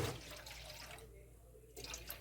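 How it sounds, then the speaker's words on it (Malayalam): Around a cup of water poured into a pan of milk on the stove, a faint, brief trickling pour that dips quiet partway through before splashing again. "ഏകദേശം വെള്ളം ഒഴിച്ചെടുക്കുക"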